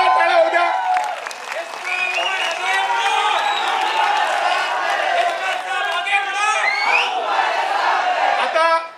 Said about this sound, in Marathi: वरच्या लोकांनी जरा जोरदार टाळ्या हो द्या.